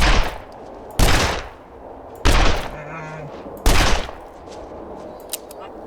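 Four loud rifle shots ring out one by one in The Long Dark, aimed at a bear, each a sharp close blast with a rolling tail, spaced about a second apart, and a person talks quietly between them.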